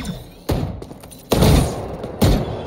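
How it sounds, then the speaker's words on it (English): Flashbang detonations and gunfire in the Valorant shooter game: three sharp, loud bursts, each followed by a decaying rumble, with no talking. "Flashbang! Breaking them!"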